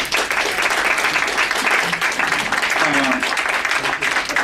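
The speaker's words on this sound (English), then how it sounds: "I think we owe another round of applause to all of our panelists." A conference audience gives a round of applause for the panelists at a gathering of journalists from around the world: dense, sustained clapping from a large crowd, loud and steady throughout, with faint voices underneath.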